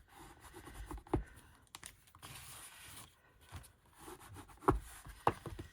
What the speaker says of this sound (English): Just get my bone folder and reinforce the folds.